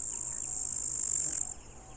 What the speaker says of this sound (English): Friction generates the chirping sound that brings partners together.